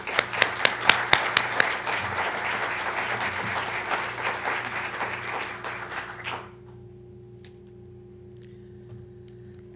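A lecture audience breaks into applause to welcome the speaker, dense clapping with a few sharp near claps, sustained for about six seconds before stopping abruptly into a quiet room.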